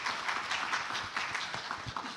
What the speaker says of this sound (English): A round of applause for Organo Munion